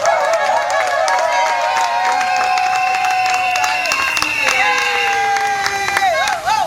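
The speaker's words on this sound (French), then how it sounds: "Applaudissez très fort." Applause and crowd noise fill the room at a civil wedding ceremony, loud and continuous, mixed with sustained ululating voices and music, with no clear breaks.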